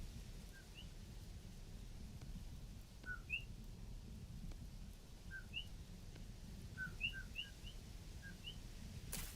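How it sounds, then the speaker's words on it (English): Insects in the video game Vintage Story give off bird-like chirps: short, scattered tweets over a steady hiss of rain-like ambience, moderately faint and with no talking. "I love how those weird little insects are making the bird noises."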